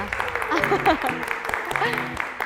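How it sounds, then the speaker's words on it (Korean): A large studio audience claps briefly at the opening of a music talk show while someone speaks over it, the applause sitting under her voice for a couple of seconds. "이렇게 박수 소리만 들어도 아시겠지만 오늘 좀 인원이 많습니다"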